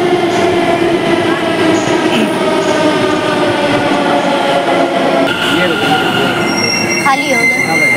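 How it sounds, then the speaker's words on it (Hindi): Delhi metro train pulling into a station, its rumble and wheel squeal loud and steady throughout, with a brake squeal rising near the end and faint voices in the background. "आ रही है मेट्रो"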